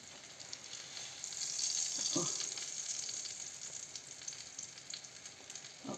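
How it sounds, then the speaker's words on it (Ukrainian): Onion sandwiches fry in oil in a pan, giving a soft, steady sizzle that stays faint throughout, with a brief clatter midway. "акуратно розкладаємо і з цього боку підсмажуємо ще"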